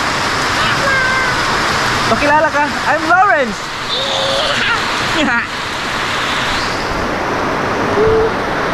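Steady rain during the rainy season at a house in the province, a broad hiss running throughout beneath children's voices and someone talking.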